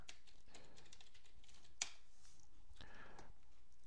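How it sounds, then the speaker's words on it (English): Typing on a computer keyboard while entering a search into Google, a quiet, steady patter of light key taps with a couple of sharper clicks, close and alone without speech. "We're going to type in uTorrent."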